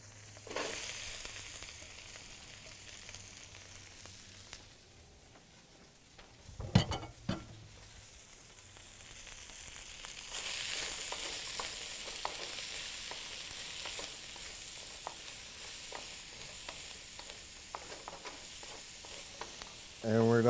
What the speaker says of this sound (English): And we're going to saute all our veggies up